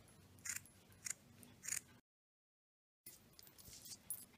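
Scissors snipping through burlap to cut out a leaf shape for a handmade jute flower, three crisp cuts, a short silence, then a few more close snips.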